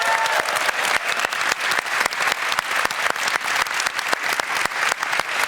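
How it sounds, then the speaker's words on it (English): An audience at a Dota 2 event gives loud, sustained applause, with dense rhythmic clapping throughout. "can we get a round of applause for Anna?"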